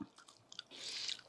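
Close, quiet chewing and crunching of a fried chili eaten with curd chutney, a few soft bites followed by a longer wet, crunchy mastication.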